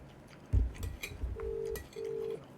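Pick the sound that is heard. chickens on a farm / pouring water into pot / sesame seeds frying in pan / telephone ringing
telephone ringing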